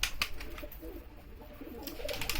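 Rapid wing flaps of a pigeon taking off close by, bursts at the start and end around a softer stretch.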